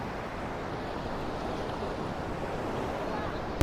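Sea waves wash steadily onto Murudeshwar beach in a continuous, even roar of surf with wind buffeting the microphone, ending in a sudden close thump.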